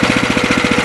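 Honda clone engine swapped onto a Sears 26-inch snow blower, running right after a choked pull start: a loud, close, steady thumping putter with rapid even firing pulses.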